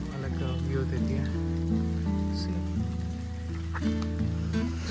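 Light rain patters steadily and evenly on surfaces outdoors on a nature trip around Rawatbhata, faint and continuous beneath loud, droning background music.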